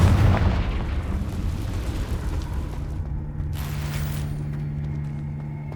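Confringo spell explosion in the video game Hogwarts Legacy, a heavy booming blast at the start that decays into a low rumble and then a faint fading hum.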